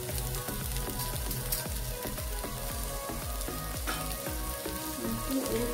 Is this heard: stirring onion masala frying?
yes